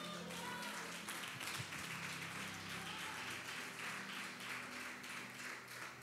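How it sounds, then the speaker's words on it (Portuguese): Congregation applauding during a Friday evening church service, a steady wash of dense clapping that fills the whole moment, fairly distant and even, with faint music or voices underneath. "você pode aplaudir ao Senhor?"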